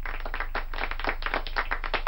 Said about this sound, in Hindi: सो आपकी सारी तालियां और सारी तारीफें सिर्फ और सिर्फ मिस गोलगप्पा, सॉरी, सिर्फ डॉक्टर सांची के लिए होनी चाहिए।